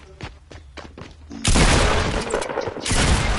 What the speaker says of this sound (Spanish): Mira que te están disparando.